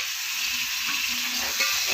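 Onion-tomato masala for mutton gravy sautéing in a pan, a soft, even sizzle heard up close and alone, with faint movement in the oil.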